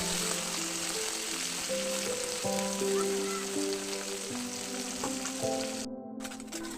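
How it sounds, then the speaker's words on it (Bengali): Tengra fish coated in turmeric and salt frying in oil, a continuous close sizzle with faint steady tonal sounds running underneath. "এই যে মাছগুলোতে মশলা মেখে আমি ভেজে নিচ্ছি, হলুদ নুন এগুলো দিয়ে।"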